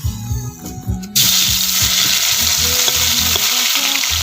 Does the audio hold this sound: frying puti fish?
yes